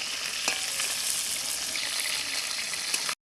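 Tengra fish sizzles in hot oil in a pan, a close, steady bright crackle with a few small pops, ending abruptly.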